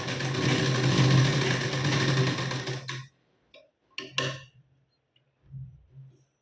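Sewing machine running steadily for about three seconds while stitching a blouse shoulder seam with a half-inch seam allowance, then stopping, followed by a few short clicks and brief low motor bursts.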